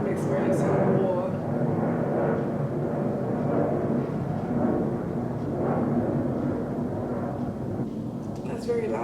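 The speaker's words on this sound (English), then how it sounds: "Hopefully you can hear me over this airplane, whatever that is." An airplane passes loudly over a beach in Las Palmas, a heavy continuous roar that rumbles throughout, with someone talking beneath it.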